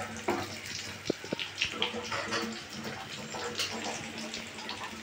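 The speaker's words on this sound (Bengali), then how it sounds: "জলটা দিলাম, এই গরম জলটাই।" Hot water is poured into a pot of khichuri being cooked, a soft gushing splash that is fairly quiet and runs for several seconds, with a voice speaking briefly over it.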